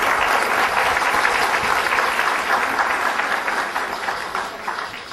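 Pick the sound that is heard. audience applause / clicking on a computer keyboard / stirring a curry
audience applause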